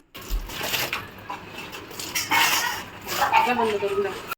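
Close, continuous scrubbing and scraping against German-silver cookware, with rhythmic rubbing strokes and occasional clinks, no talking.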